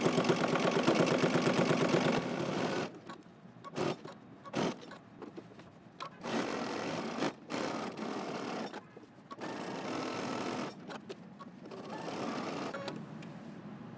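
A sewing machine stitches pocket bags for a jacket with a 5/8 inch seam, running in steady whirring bursts broken by short pauses as the fabric is turned, close and clear with no talking.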